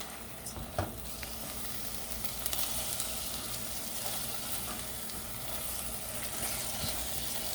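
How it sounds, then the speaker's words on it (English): Ingredients sizzle and crackle steadily in a hot pan while being stirred, with occasional scrapes and clinks standing out over the continuous frying hiss. "Now we're going to mix everything together."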